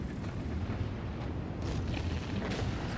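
A FV4005 Stage II tank gun fires in World of Tanks on the Ensk map, a heavy booming blast with rolling low rumble and a couple of sharper cracks later, no talking.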